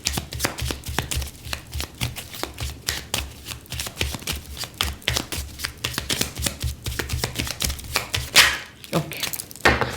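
Tarot cards being shuffled and drawn: a loud, rapid, continuous run of close clicking riffles and taps from the deck, with a brief swishing pull of a card near the end.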